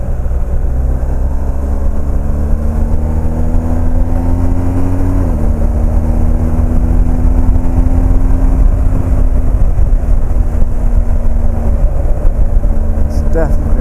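A BMW R 1250 GS motorcycle engine rises and falls in pitch as the big bike is ridden hard through a series of corners, heard close and steady with wind rush throughout.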